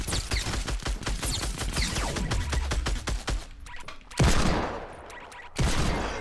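Rapid, loud gunfire in the battle royale game Fortnite: a fast stream of close shots for several seconds, then a pause and two heavier single blasts with ringing decay.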